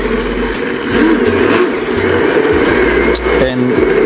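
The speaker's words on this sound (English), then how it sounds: "I am just blending away." A Braun stick blender whirs loudly while blending habanero hot sauce, a steady motor hum with pitch dips as the load shifts, and a person talks over it.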